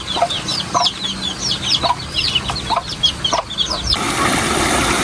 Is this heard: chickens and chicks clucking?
yes